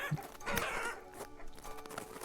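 Chickens clucking in the survival video game Vintage Story, a few short, faint clucks over low background game ambience.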